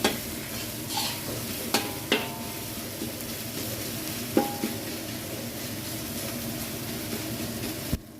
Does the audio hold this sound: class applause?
no